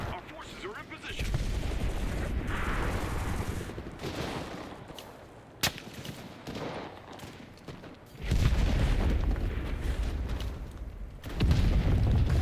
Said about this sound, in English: that's an anti-tank rifle